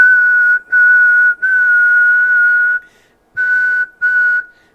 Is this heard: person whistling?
yes